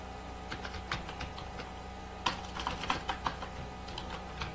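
Typing a word on a computer keyboard: a run of quiet, irregular key clicks, with a few sharper taps near the end against a low steady background hum.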